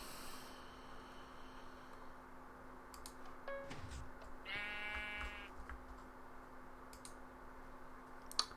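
A single clear sheep bleat from the Minecraft map Diversity 2, short and wavering, rises over a quiet background with sparse mouse and keyboard clicks.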